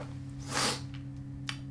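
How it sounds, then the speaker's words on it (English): One sharp sneeze after a sniff of W.E. Garrett dry snuff, a close burst of breath expelled through the mouth, followed by a brief quieter sniff. "I was sneezing, like, completely out my mouth, not to lose the product"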